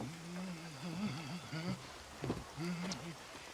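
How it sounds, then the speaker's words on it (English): Rain falls steadily in the Red Dead Redemption video game, a soft continuous patter under voices talking in the foreground. "I like how the rain actually splashes on the camera."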